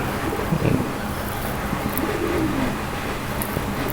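Fancy pigeons coo with soft, low, rolling calls repeating several times over a constant background hiss, with faint chirps above.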